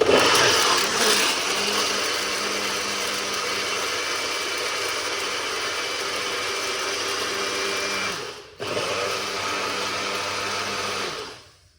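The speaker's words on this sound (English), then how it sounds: "You don't want to blend it too long. Very quick blend." A loud blender whirs continuously, with a brief dip in the motor sound near the end before it runs on and then stops.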